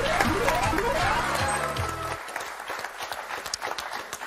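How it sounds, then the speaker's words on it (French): Studio audience applause on the French word game show Motus: a musical jingle fades out, then a dense, steady patter of many hands clapping carries on to the end. "Bravo, on vous applaudit."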